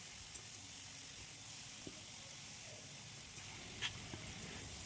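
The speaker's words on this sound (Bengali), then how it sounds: "এখন সবজিটাকে আবারও আমি নাড়াচাড়া করতে থাকব" Fresh winter vegetables and tomato fry with spices in a pan, giving a faint, steady low sizzle with occasional soft clicks of stirring.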